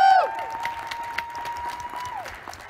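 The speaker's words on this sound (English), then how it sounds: "Big round of applause." A conference keynote audience applauds award winners at the close: brisk, fairly loud clapping with a sustained whistle-like tone running through it, then a gradual tapering off.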